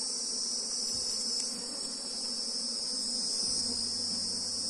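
Apis honey bees buzzing steadily around a hive box during a colony inspection, a continuous droning hum with insect-like chirring, fairly close and even in level throughout, with no talk.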